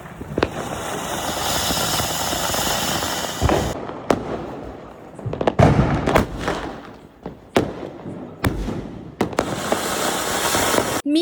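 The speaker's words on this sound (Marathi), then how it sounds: "फटाके फोडलेत." Firecrackers burst at a celebration, first as a long crackling, hissing fusillade, then as a series of loud, separate sharp bangs with echoing tails, before a dense crackling barrage returns.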